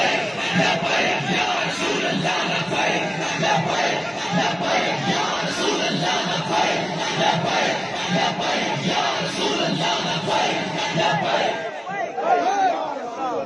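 A large crowd at a religious gathering in Haveli Lakha, Pakistan roars out the slogan Labbaik together, a loud, dense wall of voices that holds steady across the whole stretch with shouts rising from within it.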